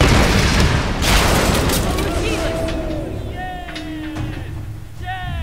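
A burst of explosions and crackling booms at the start in the 2013 Tomb Raider video game, then electronic chirps and tones with low rumble beneath.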